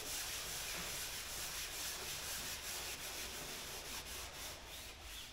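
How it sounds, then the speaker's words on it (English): A painted aircraft interplane strut is lightly sanded with 320 grit sandpaper, giving a continuous, close, faint dry rubbing hiss with a gentle back-and-forth rhythm and no voices. "a very light sanding, not much more than this."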